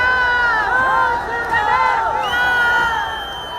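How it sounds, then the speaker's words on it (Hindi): A large crowd at Bageshwar Baba's gathering, with many voices cheering and shouting together in a loud, continuous roar. Whistling or tonal calls rise and fall over the din throughout. "बाबा बागेश्वर के दरबार में इतनी भीड़ कहां से आई?"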